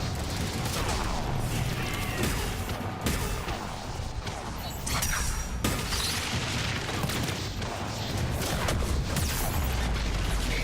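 A Ravager's triple shotgun in Mass Effect 3 fires loud, dense, overlapping blasts amid crashing battle noise, sustained throughout with a few sharper cracks standing out.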